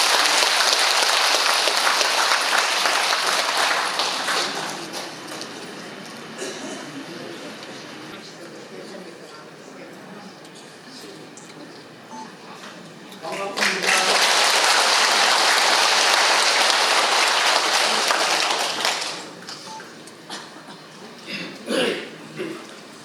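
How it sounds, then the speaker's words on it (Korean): Lecture audience applauding to welcome a monk speaker, a loud, sustained clatter of many hands that fades, then swells again before tapering off into scattered claps. "큰 박수 부탁드리겠습니다."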